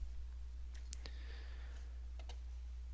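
Faint, crisp computer mouse clicks in SolidWorks, including a quick double-click, sound over a quiet room hum with a few isolated taps.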